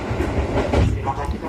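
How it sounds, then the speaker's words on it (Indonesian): Inside a commuter train running from Duri station toward Depok, a steady rumble and clatter of wheels on rails rolls on close and loud. "ini kereta yang berangkat dari stasiun Duri menuju Depok"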